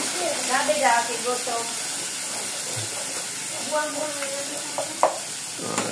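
Onions sautéing in a pan give a steady, close sizzle and hiss beneath a person talking, with occasional stirring clinks.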